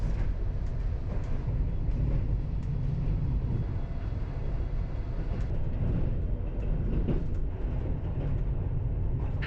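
LTG Link passenger train hauled by an SU-160 locomotive, rolling on rails toward Suwałki at about 60 km/h: a steady, loud low rumble with continuous wheel-on-rail clatter throughout, no voices.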